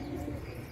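A domestic pigeon being shown for sale gives a soft, low coo, faint and brief, with no talking over it.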